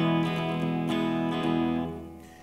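Clean electric guitar tone played through an amp, a few ringing notes and chords sustaining steadily, then fading out at the end with no voice over it.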